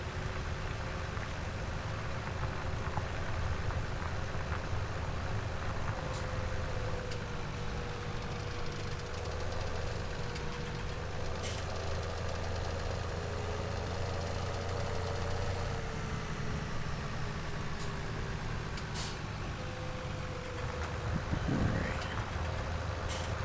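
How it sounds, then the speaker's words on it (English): Deutz-Fahr tractor engine in Farming Simulator 17 running at a steady, droning idle-to-working pitch throughout, continuous and moderately loud, with someone talking over it. "This Deutz-Fahr is actually a pretty nice tractor, pretty decent."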